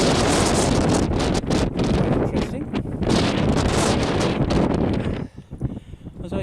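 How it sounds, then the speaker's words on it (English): Strong coastal wind buffets the microphone at Whitby Abbey on the clifftop above the sea, a loud continuous roar with gusts that ease and drop sharply near the end. "the wind's really atrocious"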